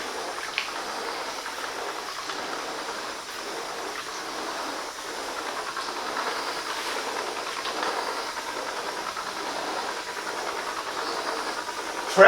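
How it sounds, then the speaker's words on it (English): A Silvercrest steam mop releases steam onto carpet as a steady, broad hiss that holds level and continuous throughout, fairly loud and close, with no voices. "Press and clean carpet with the power of the steam."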